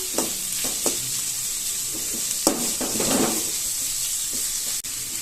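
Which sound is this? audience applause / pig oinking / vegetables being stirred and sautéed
vegetables being stirred and sautéed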